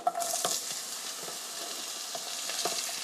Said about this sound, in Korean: 여기에 썰어놓은 호박을 넣어주세요.